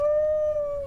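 A dog in the video game Card Hunter gives a single sustained howl, one steady high tone held loud and clear for under a second.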